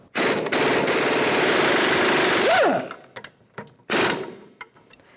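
A ratcheting 17mm socket works a bolt loose from the rear upper control arm of a 2013–2018 Toyota RAV4, giving a loud, close burst of rapid mechanical whirring, then short bursts and quiet.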